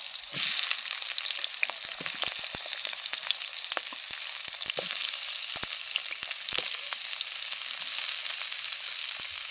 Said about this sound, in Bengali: গোটা জিরে দিয়ে দিলাম ফোড়নে। কেটে রাখা আলুটা দিয়ে দিলাম।